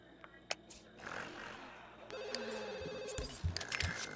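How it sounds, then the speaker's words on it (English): Telephone ringing in The Sims 2 life-simulation game, a repeated electronic ring pattern in the middle of the clip amid game sounds and clicks, with a voice talking briefly. "Answer the phone."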